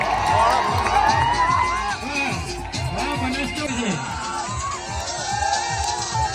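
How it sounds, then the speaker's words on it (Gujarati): A crowd cheers and claps, with excited shouts and whoops layered over a steady roar of voices. "તાળીઓના ગડગડાટથી વધાવીએ"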